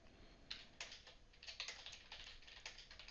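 Fast, light keystrokes on a computer keyboard, a near and steady run of soft clicks that fills a quiet room without any voices.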